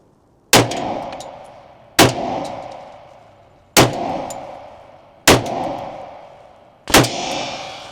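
Five loud, sharp gunshots from a 10mm Smith & Wesson M&P Carry Comp pistol firing solid screw-tip Underwood or Lehigh Defense bullets, spaced about one and a half seconds apart, each with a ringing decay.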